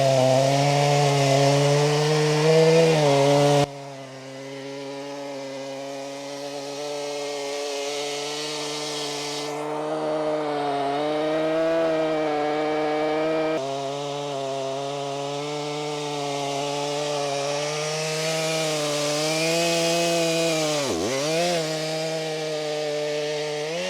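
Chainsaw cutting lengthwise down a very large oak beam during milling, engine droning loud and steady with pitch shifts as the bar bites and eases, one brief throttle dip near the end, no talking.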